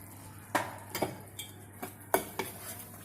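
Masala for Kashmiri aloo dum being roasted and stirred in a pot, a few sharp spoon clinks and scrapes against metal at irregular intervals over a quiet background.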